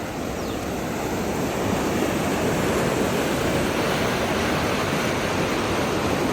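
Floodwater rushing through brimming channels after days of heavy rain, a loud, unbroken roar of flowing water with no voices.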